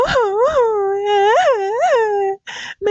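A cartoon character wails and howls like a jackal, a voice imitating the animal with long rising and falling cries that are loud and close, ending in a brief broken sob.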